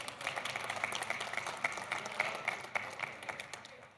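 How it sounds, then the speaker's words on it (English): An audience at a public investment fund and private sector forum claps in a steady, rhythmic burst of applause, moderately loud and even, tapering off at the end. "Let's give them a big round of applause."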